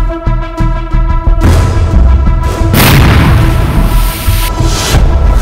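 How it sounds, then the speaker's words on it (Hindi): A deep, booming IED bomb blast in the Chakarbandha forest in Gaya, India erupts after a stretch of rhythmic mechanical tones, followed by a long, loud rumbling roar that fills the rest of the clip. "गया में चंद सेकंड में बम विस्फोट की ये तस्वीरें डरावनी हैं।"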